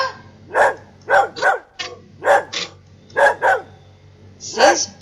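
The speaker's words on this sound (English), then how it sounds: "Dog." A recorded dog barks in a series of about eight sharp, loud barks, some in quick pairs, played back close and clear with a faint hum beneath.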